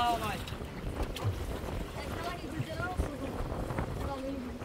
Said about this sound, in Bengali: ও, এটা কত বড় ঢেউ!